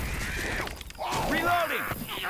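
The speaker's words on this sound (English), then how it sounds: "Hey, I'm reloading" Weapon reload in a video game: quick mechanical clicks and metallic clatter, then a sharp rattling snap, loud and close, with game voices and sweeping effects mixed around it.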